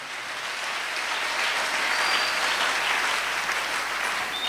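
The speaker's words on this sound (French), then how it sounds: "Est-ce que tu peux acclamer?" A congregation at a French-language sermon applauds and cheers in one steady, dense burst of clapping, close and loud, with a few whistles over it.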